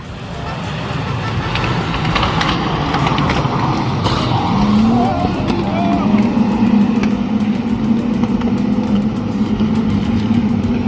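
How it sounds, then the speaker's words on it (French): Race cars roar off the start of a Le Mans Cup race at a Barcelona circuit, a loud, dense, continuous engine wash with one rising engine note standing out. "Et là c'est le départ de la course de la Le Mans Cup."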